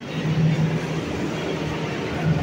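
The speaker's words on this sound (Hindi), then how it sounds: "राजीव चौक का मेट्रो स्टेशन है, यहाँ से लेंगे हम नोएडा सिटी सेंटर के लिए।" Metro train at Rajiv Chowk metro station in Delhi, a steady low rumble and hum of the train and platform ambience, continuous and fairly loud over a short stretch.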